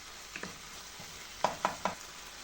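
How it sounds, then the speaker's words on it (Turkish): Tomatoes fry in a pan under a soft, steady sizzle, with a few light clacks of a utensil, including three close, distinct knocks near the end. "Evet domateslerim de biraz kavruldular."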